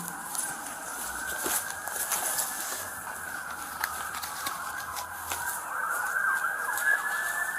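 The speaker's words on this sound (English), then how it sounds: "these officers are still running full code lights and sirens" Police car sirens wail continuously nearby during an arrest on private property, steady and fairly loud, with no speech.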